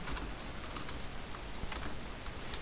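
Rapid typing on a computer keyboard, a steady stream of close, light key clicks with occasional sharper taps and no pauses, no voices.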